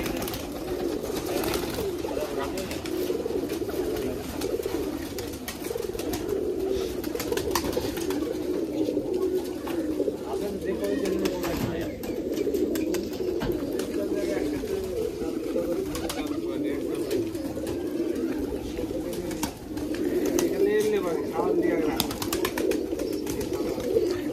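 Numerous Giribaj pigeons in a backyard loft keep up a continuous low cooing chorus, close and fairly loud, with faint talk now and then underneath.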